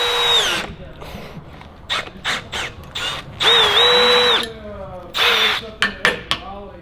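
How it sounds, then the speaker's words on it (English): A power drill whines in short bursts while boring a pilot hole, its motor pitch rising and dropping between pauses, with a voice speaking nearby. "I feel like I should drill the pilot hole before I break this bit"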